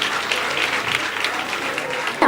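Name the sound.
audience applauding the dancers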